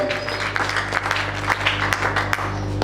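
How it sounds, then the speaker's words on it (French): A church congregation at a French-language Sunday service applauding, a steady wash of clapping with a few sharper individual claps, heard over a low musical hum. "On applaudit très fort pour la part de Dieu"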